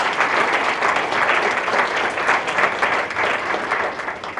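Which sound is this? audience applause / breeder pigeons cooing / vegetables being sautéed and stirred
audience applause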